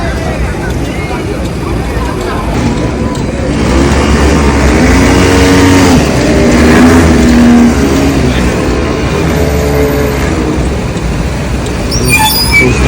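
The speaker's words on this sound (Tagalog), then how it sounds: "Two-stroke engine oh." Two-stroke engine vehicles rev on a Shibuya street in Tokyo, a buzzing engine note swelling and fading amid traffic hum and wind noise on the microphone, with people talking nearby.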